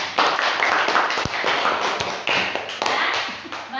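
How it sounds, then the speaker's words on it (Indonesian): Children in an elementary school math class clap together, a busy, uneven patter of hands with a few sharper claps standing out, fairly close and continuous. "Tepuk tangan dulu tuh."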